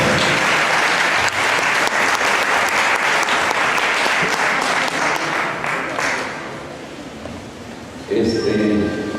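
Warm welcoming applause from an anniversary event audience greeting a speaker, a loud, dense wash of many hands clapping that thins and fades toward the end before a voice begins speaking.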